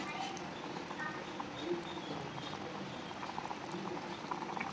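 A pot of sambar made without dal simmers with soft, steady bubbling and gentle popping, continuous and close.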